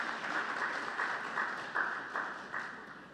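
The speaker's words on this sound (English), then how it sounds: "so a round of applause for us" Steady applause from the audience at an advertising agencies' annual general meeting, a dense wash of many hands clapping at moderate distance, swelling slightly in places and continuing throughout without speech.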